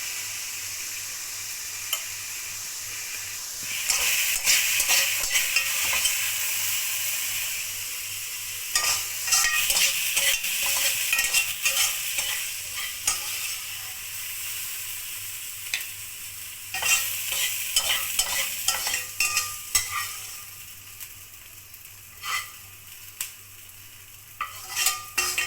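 Vegetables frying for chicken jalfrezi sizzle steadily in a pan while a spoon scrapes and stirs them in irregular bursts, with sharper clicks of utensil against metal and no talk.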